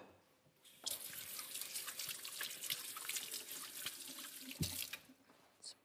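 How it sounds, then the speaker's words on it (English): A kitchen tap runs as hands are washed while baking cookies. Water gushes steadily and close for several seconds, with splashing in the sink, then cuts off near the end. "Just wash my hands."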